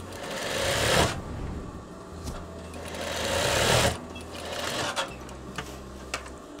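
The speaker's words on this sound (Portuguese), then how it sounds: "Então, bora costurar." A sewing machine stitches firm fabric for a veterinary coverall in two sustained close runs, each a fast even whirr, followed by a few short clicks and taps.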